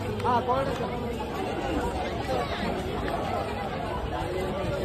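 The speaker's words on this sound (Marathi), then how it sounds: "लय गर्दी आज विचाराच्या बाहेर." A dense crowd chatters and murmurs steadily at the busy Shirdi Sai Baba temple, a continuous hubbub of many voices close around with no single voice standing out.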